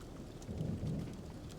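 Rain falls steadily outdoors in the cold as a soft, continuous, faint hiss, with a low rumble swelling briefly in the middle and no voices.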